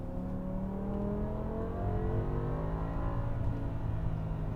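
BMW E60 M5 with its 5-litre V10 revving hard in second gear, a steady loud engine note with rising harmonics climbing smoothly through the revs, close and continuous with no talk.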